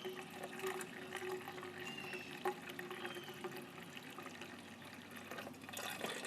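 Wort from a red ale mash runs steadily out of the mash tun during recirculation, a continuous soft trickle and pour of liquid heard close up with no talking, holding fairly even throughout.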